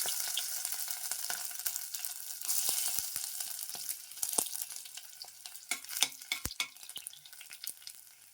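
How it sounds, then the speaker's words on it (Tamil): Crushed garlic fries in coconut oil for tomato rice, a continuous hiss of sizzling with sharp crackles and pops, close and steady, growing busier toward the end. "நான் தேங்காய் எண்ணெய் விட்டுருக்கேன். நசுக்கி வச்ச பூண்டு போட்டுக்கலாம்."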